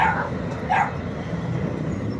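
A dog gives two short barks in quick succession near the start, moderately loud and close, followed by quiet background.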